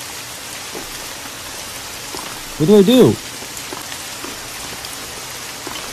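Steady rain falling in the Subway Horror video game, a constant close hiss of drops throughout, with a voice speaking briefly over it midway.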